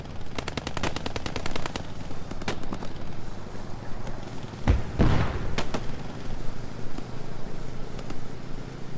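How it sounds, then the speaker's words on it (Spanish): Gunfire in the WWII shooter game Post Scriptum: rapid bursts of machine-gun fire crackle at mid distance, followed by a loud nearby blast and scattered further shots over a noisy battlefield background. "Me da igual los tiros que hagamos"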